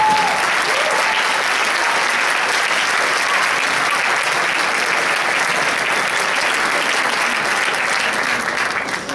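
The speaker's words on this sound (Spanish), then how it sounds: "los premien con un fuerte aplauso" Loud, sustained applause from an audience at an arts school graduation ceremony, a dense steady clapping that fills the whole stretch without a break.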